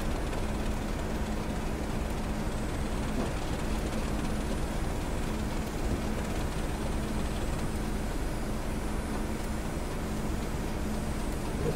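A diesel train engine growling as it speeds up on the West Highland Line in a train simulator game: a steady, loud low drone with a faint tonal hum running throughout, no voices.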